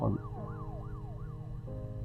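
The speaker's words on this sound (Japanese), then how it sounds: "パトカーだ。" A police car siren from the video game Her Story wails in a steady rising-and-falling cycle, loud and close, heard alone with no talking.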